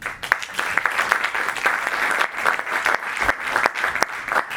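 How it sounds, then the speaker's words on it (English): Conference audience applauding a speaker, with many hands clapping in a lively, uneven patter and some sharp individual claps standing out, moderately loud. "A warm applause for Marijke."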